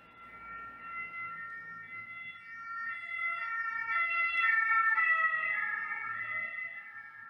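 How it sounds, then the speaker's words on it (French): An ambulance siren passing by, its wailing tones rising in loudness toward the middle and staying prominent, heard from outdoors at moderate distance with no talking. "Passage d'ambulance."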